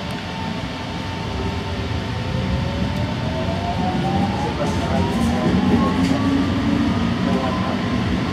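An Ottawa O-Train Confederation Line light rail train runs steadily, a loud continuous rumble and rolling roar from inside the car with rising and falling whine tones, heard alone without talk.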